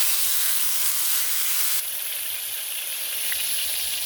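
A seasoned pork steak sizzles in a skillet, a loud, steady frying hiss close up that drops slightly in level partway through and carries on without talk.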